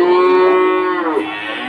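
A young cow at a cattle market in Pati, Central Java, lets out a single long, loud moo that holds steady and then drops off at the end.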